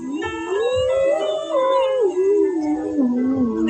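A sung vocal exercise done with the cheeks puffed up like a pufferfish, a loud, continuous buzzing tone that glides up and back down in pitch, with no speech.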